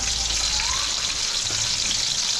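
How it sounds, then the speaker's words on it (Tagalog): Sliced eggplant frying in a pan with a steady, close hiss and crackle of hot oil, continuous throughout with no talking. "Piprito tayo ng talong."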